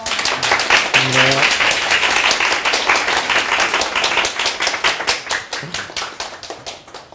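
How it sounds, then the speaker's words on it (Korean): A live audience claps loudly at the close of a graduate MBA information session, a dense burst of many hands that stays strong, then thins slightly toward the end, with a brief voice heard near the start. "네, 하여튼 다들 한번 크게 박수 한번."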